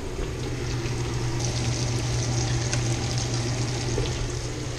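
Fish fillets for tacos sizzle and crackle in a hot pan, a steady, close frying hiss with no voices over it.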